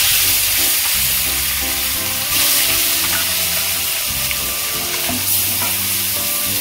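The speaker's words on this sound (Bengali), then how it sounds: "তেল গরম হয়ে গেছে, এবার আমি মাছগুলো দিয়ে দেব।" Koi fish sizzle loudly and steadily in hot oil in a wok over a village stove, a dense crackling fry with faint clinks of stirring and no voices.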